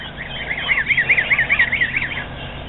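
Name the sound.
geese honking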